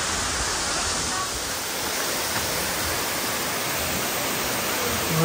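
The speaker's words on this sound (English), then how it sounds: "Watch this waterfall." Continuous loud broadband roar of falling water at a partly frozen waterfall at Kegeti in Kyrgyzstan, steady and close with no pauses.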